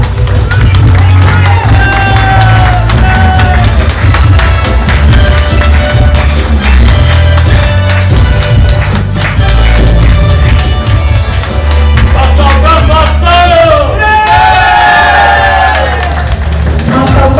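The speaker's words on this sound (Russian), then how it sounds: "Аплодисменты!" Audience at a Yakutian restaurant-culture competition final applauds and cheers loudly over continuous music, with crowd noise and voices mixed in throughout.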